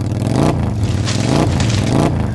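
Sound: motorbike revving and riding off

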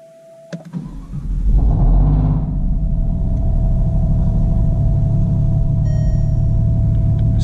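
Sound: Alfa Romeo Giulia Quadrifoglio engine starting and running

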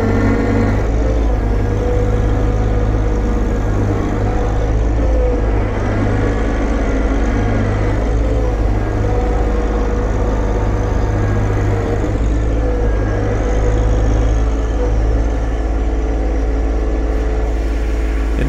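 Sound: John Deere 1025R tractor stuck, four-wheel drive, engine revving

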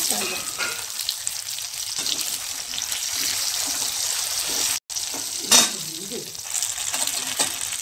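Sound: cinnamon, cloves, fennel and poppy seeds sautéing in oil

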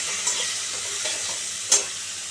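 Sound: okra frying in a pan with salt

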